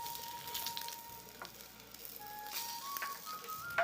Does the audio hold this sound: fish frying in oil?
yes